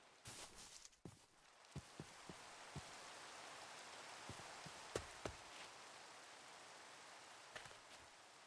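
Rain falls in a video game, a steady soft hiss of drops broken by scattered crisp clicks and taps from in-game movement, fairly quiet, with no one speaking.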